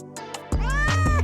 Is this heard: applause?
no